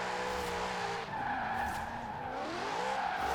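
A Lexus RCF in Forza Horizon 4 shreds its tyres in a sustained, loud squeal over a steady engine roar, the pitch wavering as the car slides.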